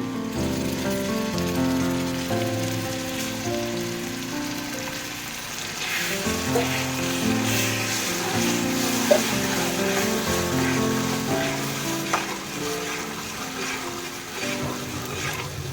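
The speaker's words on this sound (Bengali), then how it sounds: "মশলাটা ভালো করে না ভাজা হয় বা এটার উপরে তেলটা না উঠে যায় ততক্ষণ পর্যন্ত আমি এটাকে ভাজতে থাকবো।" Steady sizzling of blended spice paste frying in hot oil for a chicken and potato curry, continuous and close, with occasional crackles and a faint hum in the background.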